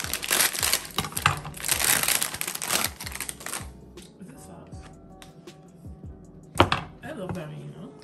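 Knife slicing through food on a board while a snapper fish stuffing is prepared, a run of dense crisp cuts close up, then quieter scattered taps and one sharp chop, with voices talking over it.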